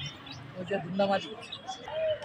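Pigeons at an outdoor bird market give soft, intermittent coos and chirps, fairly quiet and close, mixed with bits of nearby talk and crowd murmur.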